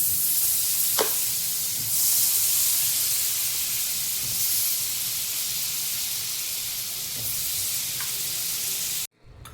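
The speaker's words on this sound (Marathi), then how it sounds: "कढई गरम झालेले, बटर टाकूया।" Butter sizzling in a hot kadhai, a steady loud hiss and crackle of frying that runs continuously, with a couple of faint clicks, before cutting off abruptly.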